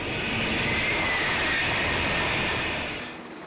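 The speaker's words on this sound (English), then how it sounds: "Here, one can clearly see the F-35B's vertical takeoff capabilities." An F-35B fighter jet performing a vertical takeoff gives a loud, sustained broadband jet roar that holds steady and then fades slightly at the end.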